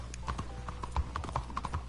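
Horse hooves clip-clop in a steady, quick rhythm of hard knocks in a role-play video game, fairly faint and with no one talking over them.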